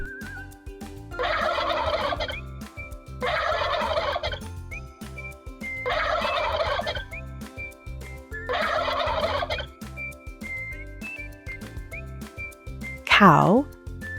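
Farm turkey gobbling in four loud, rapid bursts, each about a second long with short pauses between, followed by a brief rising whistle-like call near the end.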